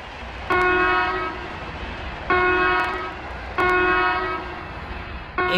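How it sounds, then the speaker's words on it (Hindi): An Indian Railways train horn sounds in a series of short, loud blasts, evenly spaced with pauses between them and nothing else heard. "ऐसे में ड्राइवर मुसलसल 10 छोटी सीटी लगाता है।"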